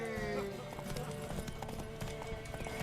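Horse hooves clip-clopping in The Witcher 3: Wild Hunt, a steady rhythmic trot of hoofbeats close by under music and voices talking.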